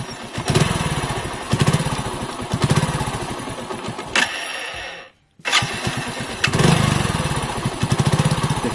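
A motorcycle engine starts after its carburetor air-mixture screw has been loosened and then runs at a loud, close, pulsing idle, briefly cutting out before catching again and continuing to run steadily.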